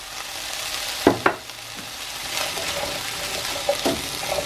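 Spices for a chickpea curry stirred in a hot frying pan: steady sizzling with a few sharp scrapes and knocks of the spoon against the pan, close up and with no talking.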